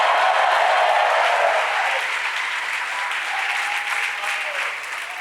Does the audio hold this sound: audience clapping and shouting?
yes